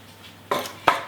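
A muffin tray is set down on a kitchen counter during a hot cross muffin baking demonstration, making two quick, close clattering knocks about a third of a second apart against a quiet room.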